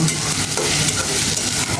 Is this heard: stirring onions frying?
yes